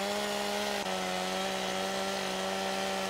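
A chainsaw cuts trees in Farming Simulator 2017, its engine holding a loud, steady high whine for the whole stretch, with a brief pitch dip near the start and no talking.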